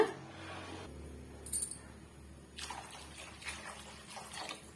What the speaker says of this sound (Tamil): இப்ப தேவையான அளவுக்கு தண்ணி சேர்த்துக்கலாங்க